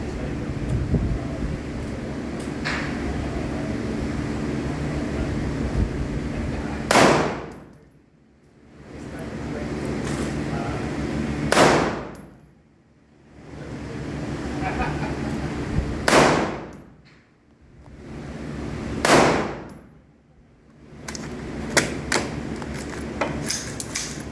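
Four loud, sharp pistol shots from an RIA handgun at an outdoor shooting range, spaced several seconds apart, each cutting through steady wind-like background noise and ending abruptly.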